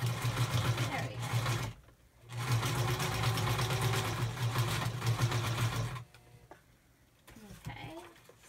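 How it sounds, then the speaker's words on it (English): A sewing machine whirs steadily in fast stitching bursts, pausing briefly, then stopping, followed by quiet handling noises. "we'll just attach that with the sewing machine"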